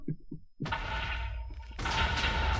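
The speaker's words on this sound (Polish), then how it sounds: "przygotujmy się na wybuch" An explosion in Minecraft: a few soft thumps, then a sudden broad blast that sustains and swells into a second louder burst, fairly close and full.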